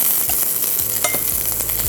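Vegan jackfruit nuggets sizzle and crackle in a frying pan, a loud close continuous hiss with scattered pops and a stirring scrape, no voices.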